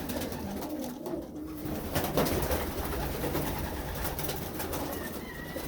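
Homing pigeons in a pigeon loft give low, steady cooing from several birds at once, close and continuous, with occasional wing flutters and shuffling.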